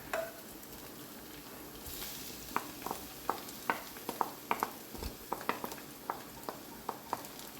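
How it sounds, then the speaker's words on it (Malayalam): Egg thoran with drumstick leaves and coconut is stir-fried in a pan, giving a soft steady sizzle broken by sharp scraping and tapping strokes of the spatula at an irregular rhythm, close and fairly quiet. "പിന്നെ ഇതൊന്ന് നമുക്ക് ചിക്കി ചിക്കി ഉണക്കിയെടുക്കാം"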